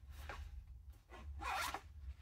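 The small zip on the storage pocket of a Waterfly running belt is pulled in two or three short rasping strokes. The zip is close but quiet, and no one speaks.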